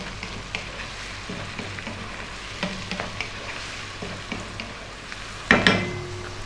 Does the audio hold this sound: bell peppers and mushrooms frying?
yes